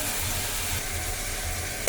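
Broad beans stirred as they fry in hot oil in a pan, a steady close sizzle with soft scraping strokes of the spoon throughout, ending in a brief louder clatter.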